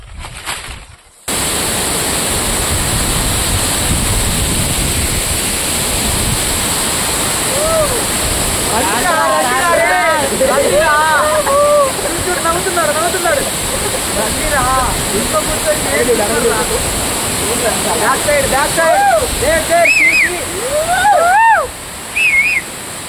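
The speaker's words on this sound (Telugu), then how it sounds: "నల్లమల్ల అడవిలో ఎంతో అందమైన జలపాతం ఉందని విన్నాము" A forest waterfall in the Nallamala hills near Indireswaram village, Atmakur mandal, roars continuously and loudly, while voices and whistle-like calls rise over the steady rush of falling water.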